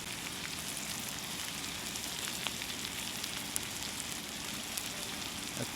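Food frying in butter in a pan inside an abandoned building: a steady, faint hiss with light crackles and scattered pops throughout.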